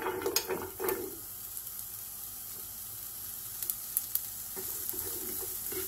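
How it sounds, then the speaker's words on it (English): Chopped onions hit an oiled pan and sizzle steadily, with a few stirring clatters near the start and over a continuous close frying hiss. "now I'm going to add my chopped onions"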